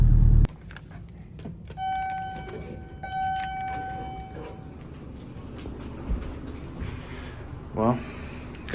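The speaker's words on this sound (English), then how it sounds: "Well, got our keys." Keys jangle near a car, a short metallic rattle late in the stretch, after a sustained electronic chime tone and a few knocks and thuds in a quiet interior.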